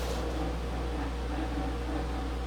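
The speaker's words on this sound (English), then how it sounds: "The sound you're hearing in the background is a squirrel cage fan from the furnace" A steady, low whooshing hum of a furnace squirrel cage fan runs unchanged throughout, a continuous broadband rush with a faint low drone.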